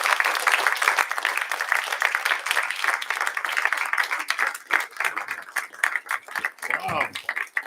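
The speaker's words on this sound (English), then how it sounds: "welcome out with a warm round of applause" An audience at a Sunday family live-stream testimony service applauding, dense clapping that thins out toward the end and is mixed with a few voices.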